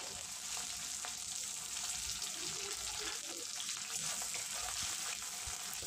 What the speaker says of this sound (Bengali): ওই তেলে দিয়ে দেব ফোড়নে গোটা গরম মশলা, গোটা জিরে আর 2 বড় সাইজের পেঁয়াজ কুচি।